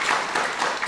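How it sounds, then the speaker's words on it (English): Applause from an audience at a university arts faculty internship event, honoring donors and students; a dense, steady wash of many hands clapping together, fairly loud and continuous throughout. "maybe we can already do a round of applause for all the generous donors and all"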